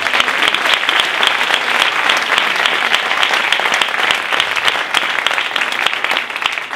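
Audience applause at a municipal political meeting, dense continuous clapping from a crowd, loud and even throughout with no talk over it.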